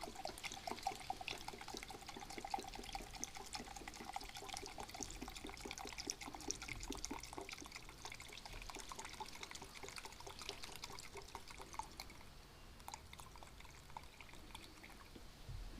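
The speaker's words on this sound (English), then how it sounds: "I'm going to measure 22 ounces of the turpentine" Turpentine being poured into a measuring container for a homemade waterproofing mix, a steady trickling liquid stream running continuously and close up with no talking.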